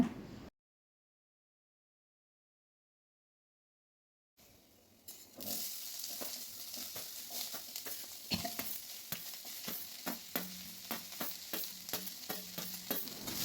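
Chopped tomatoes sautéing with salt for a Chettinad curry leaf chutney, a steady sizzle with repeated spoon scrapes and stirs in the pan, beginning after a stretch of silence and continuing close and moderately loud.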